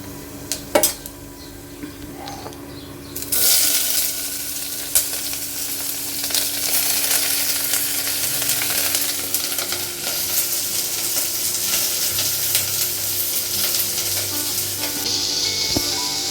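Onions fry in a pan while paneer butter masala is being cooked, producing a loud, continuous close sizzle punctuated by clanks of a utensil against the pan and stirring scrapes, with no talking.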